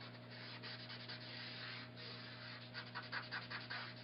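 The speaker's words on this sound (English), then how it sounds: "And I'm just going to rub it. And it's going to give it a real nice smoky edge." A smudge stick rubbing along the edge of a paper craft piece, giving a steady soft scratchy friction that comes in short strokes, closer and quicker toward the end, over a constant low electrical hum.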